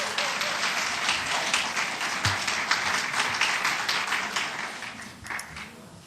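Party members at a Jeju provincial campaign rally applaud a youth committee chair candidate stepping to the podium, a sustained, dense burst of clapping from a sizable crowd, steady throughout and tapering slightly near the end.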